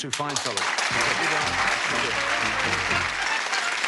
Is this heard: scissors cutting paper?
no